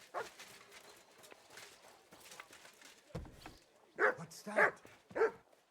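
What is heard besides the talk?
dog barking in Kingdom Come Deliverance 2 video game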